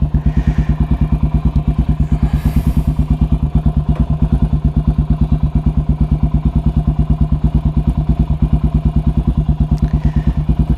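A 400cc motorcycle with an open exhaust pipe idles during a morning warm-up, giving a loud, steady, rapid thumping pulse that continues unbroken throughout, with no talk over it.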